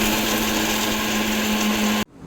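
A mixer grinder whirs steadily at full speed, grinding dry-roasted millets such as ragi and kambu into powder, then abruptly cuts off, leaving a faint fading rattle.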